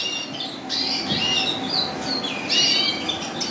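Cockbirds and young birds in an indoor bird room give repeated close squawks and chirps in irregular bursts over a low room hum.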